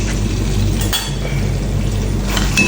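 Curd stirred into fish biryani masala in a pot: a loud, steady hiss of cooking with a few light clinks and scrapes of a spoon against the metal.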